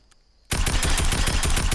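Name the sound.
SMG shooting in a video game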